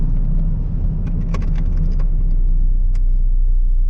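An old Toyota car drives through an English town, its engine rumbling steadily and close throughout, with a few faint jangling clicks over the drone and no talking.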